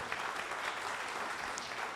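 A poetry recital audience claps in a continuous, even patter at moderate volume, with no speech over it.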